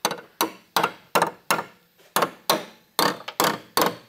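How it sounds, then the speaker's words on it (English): A hammer strikes a car body part into place during welding repair work on a Daihatsu, about ten sharp, ringing metallic blows in an uneven rhythm, loud and close with no talk. "Oh, I was going to need some smacking in with a hammer, I think."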